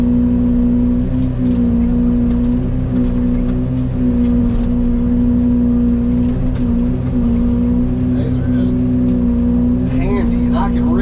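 A Yanmar VIO80 mini excavator does forestry mulching, and its engine gives a loud, steady, close drone that runs without a break through the whole stretch. A few brief scrapes and crackles sit on top of the drone near the end.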